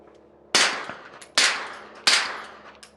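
Three loud suppressed pistol shots from a Stealth Arms Platypus 1911/2011-style pistol fitted with a titanium suppressor, evenly spaced and close, each a sharp crack with a long ringing tail.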